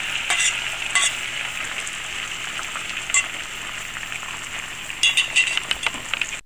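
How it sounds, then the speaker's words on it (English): Omelet frying in a buttered frying pan, a steady close sizzle with occasional sharper crackles and pops, no talking. "The next step is applying the omelet to the frying pan."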